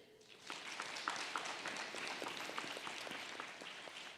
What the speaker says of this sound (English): Please go ahead and clap it up for them